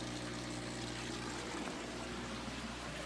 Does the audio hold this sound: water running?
yes